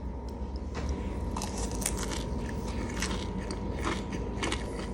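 Close, steady crunching as someone bites and chews crisp fried bread (rabanadas), with crackly bursts repeating over several seconds and no talking.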